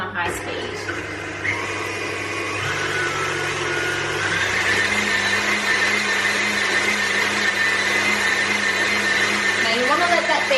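Electric mixer on high speed beating three eggs with a cup of caster sugar for brownie sandwiches, a loud continuous whirring drone that rises slightly in pitch and holds steady, with a person talking over it.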